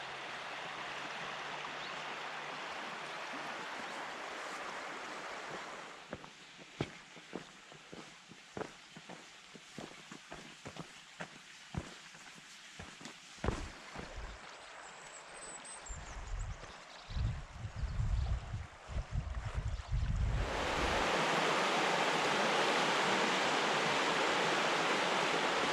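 The River Tweed flows along a walking trail in the Scottish Borders near St Boswells, a loud, steady rush of water at the start and end, with footsteps crunching over it in the middle stretch.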